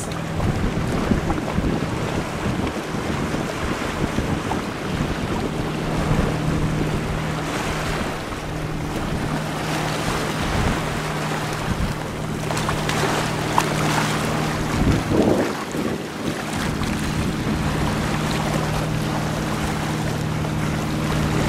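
A boat pulls out into the bay off Crete, its steady engine hum running under constant wind buffeting and wave wash, with one louder surge of water midway.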